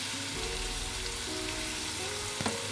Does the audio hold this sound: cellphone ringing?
no